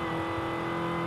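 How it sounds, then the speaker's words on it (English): A supercharged V8 car engine in Forza Horizon 5 holds a steady, loud drone with a supercharger whine layered over the engine note, continuous and close, with no talking. "You can hear that supercharger even better. But still the V8 comes through."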